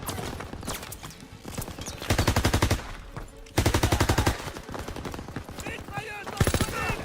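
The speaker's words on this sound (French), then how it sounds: "Mitrailleuse dans le tunnel." Bursts of machine gun fire in the World War II shooter Call of Duty WWII, two loud sustained rattling volleys with scattered shots between, mixed with game voices and battle noise.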